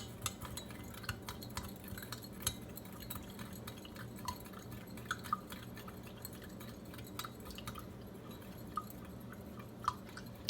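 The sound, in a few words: spoon stirring sugar to dissolve it in a cup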